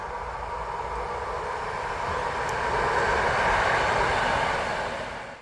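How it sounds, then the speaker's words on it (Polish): A train passing near Łódź Niciarniana station in Łódź on a hot summer day, a steady broadband rumble and roar that swells toward the middle and fades at the end, with no voices. "No tu proszę, pociąg sobie jedzie."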